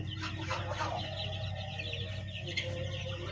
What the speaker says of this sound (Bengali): আমার কাছে অ্যাভেলেবেল মুরগি আছে, সোনালি, ফাউমি এবং দেশি মুরগি।